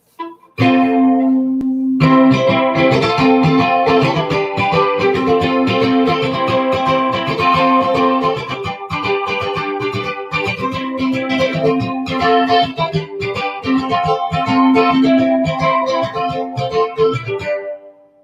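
A ukulele is strummed and plucked through heavy effects, distorted and shimmering, playing a continuous lively passage loud and close.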